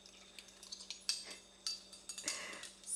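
A metal measuring spoon clinks against a small spice container while turmeric is measured, producing quiet, scattered taps and a couple of brighter metallic chinks at close range.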